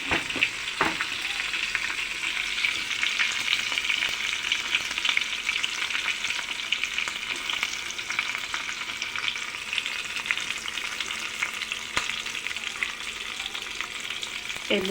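Cumin seeds and chopped green chilli sizzle in hot oil for a tempering, a continuous bright frying hiss with occasional spoon clinks and stirs, close and steady throughout.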